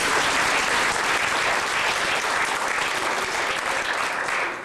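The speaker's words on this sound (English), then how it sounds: "Please give yourselves a round of applause." A crowd at a gathering gives itself a round of applause, with loud, continuous clapping that holds steady and tapers slightly at the end.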